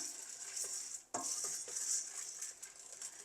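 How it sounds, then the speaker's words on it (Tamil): Chana dal dry roasting in a pan gives a soft, steady rustling patter, broken by a few light scrapes and clinks of a spoon stirring the lentils, quiet and close, with no talking. "இப்போ கடலை பருப்பு ரெண்டு மேசக்கரண்டி அளவு வறுக்குவேன்"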